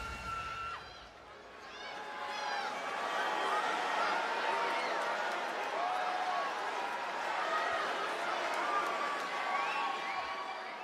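A wrestling arena crowd boos loudly and steadily, a dense wash of many voices that swells after a brief dip and holds for the rest of the clip.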